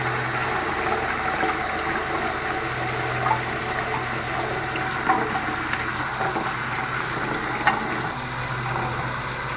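Water poured into sulfuric acid to dilute it for cleaning outdoor faucet parts. A steady, close pour flows continuously, with a few faint clinks and no talking.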